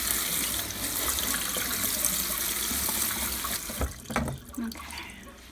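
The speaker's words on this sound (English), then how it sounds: "Rinse it to cool it off." Tap water running over food being rinsed in a kitchen sink, a steady splashing stream that breaks into uneven splashes and clatter toward the end.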